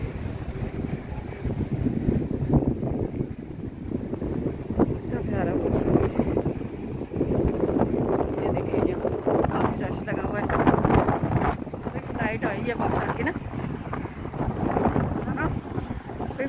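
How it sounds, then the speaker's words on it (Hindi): Cold wind blows outside Jeddah airport, buffeting the microphone with a continuous gusty rumble. Someone talks over the wind throughout. "बहुत ठंडी हवा चल रही है।"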